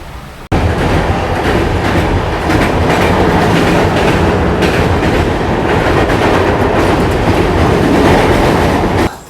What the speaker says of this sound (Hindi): फ़िलहाल हमारी ट्रेन जो स्किप कर रही है साहिबाबाद